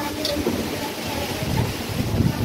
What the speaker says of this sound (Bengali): দেখছেন হাওয়ার গতি।